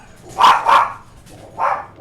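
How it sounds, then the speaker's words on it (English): Several dogs bark in the background of a Linux Guild Wars 2 gaming session: a quick double bark, a pause, then another bark, moderately loud in a room, with no talking over them. "Oh, dogs, come on."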